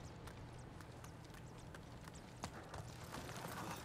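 Horse hooves clip-clopping in the video game Ghost of Tsushima, a quick steady galloping rhythm of hoofbeats over a low background hum, moderately loud and alone.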